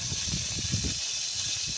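Chicken feet for adobo sautéing in a pan, a steady close hiss with bursts of crackling sizzle that pulse through the first second before settling into a softer, even hiss.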